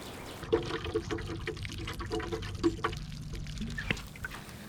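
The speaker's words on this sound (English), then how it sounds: "this is that organic root stimulator. I'll pour a little bit out in there." Organic root stimulator liquid poured into a spring raised garden bed outdoors, heard as a close, uneven splashing trickle with small bursts of liquid hitting soil and plants for several seconds, no voices.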